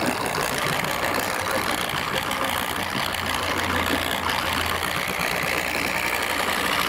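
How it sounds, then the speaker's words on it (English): A Cyclo Model 5-Pro dual-head polisher running at speed setting 1 on car paint, giving a steady broadband whirring hum, close and constant with no talk. "I'm going to put my machine right on the surface and I'm going to spread it out on speed setting 1"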